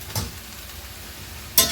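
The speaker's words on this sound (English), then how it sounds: "let me stir these around." Vegetables sizzle quietly in a hot pan for a low-fat turkey curry, with a soft steady fry noise and a brief stir or scrape near the start and another at the end.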